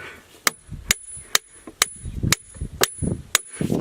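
A hammer strikes a steel anvil floating in a bath of liquid mercury, giving seven sharp, evenly spaced metallic blows close by, each with a brief ringing tail and softer knocks between them.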